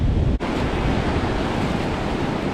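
Ocean waves at a beach, a loud continuous wash of surf with heavy wind buffeting the microphone, a brief dropout near the start, no speech.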